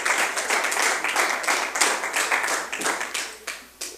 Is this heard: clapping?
yes